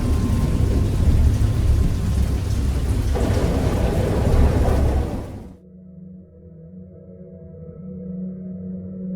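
A heavy thunderstorm with loud, continuous rain pouring down and deep rolling thunder, alone and close, cutting off abruptly partway through to a much quieter low rumble.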